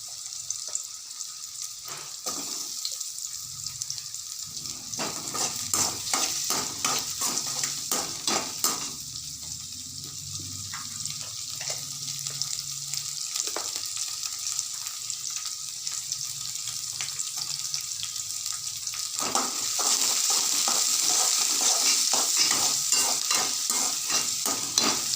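Onion, peas and potato masala sautéing in a pan make a steady close sizzle, punctuated by rapid rhythmic spatula taps and scrapes that grow brighter toward the end.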